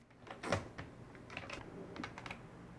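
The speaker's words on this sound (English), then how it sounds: "the keyboard he used for typing also has special aids" A computer keyboard fitted with special aids is tapped in a quiet room, giving soft, irregular clicks and thuds spaced unevenly across a few seconds.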